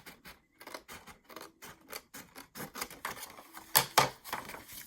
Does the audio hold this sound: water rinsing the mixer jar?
no